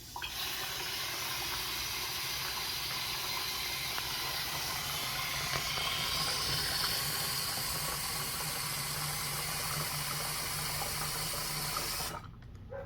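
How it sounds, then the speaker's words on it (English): Tap water pours steadily into a half-gallon pump sprayer for about twelve seconds, a dense continuous hissing rush at close range that cuts off abruptly near the end. "we will fill up the rest of the sprayer to our half"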